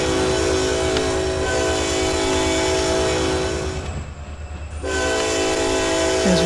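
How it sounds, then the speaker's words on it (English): A model railroad locomotive on a lumber run sounds its horn for a level crossing near a station: a loud, steady tonal blare with harmonics over rumbling train noise, briefly cutting out for about a second before resuming. "So I'm going to honk on the horn."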